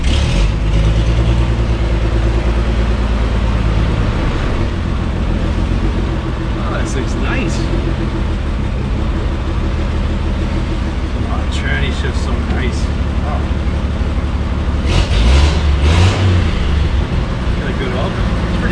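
The engine of a 1958 Chevy Apache truck runs with a loud, steady low rumble and a brief rise in revs near the end, while people talk over it.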